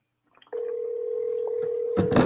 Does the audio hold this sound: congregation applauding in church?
no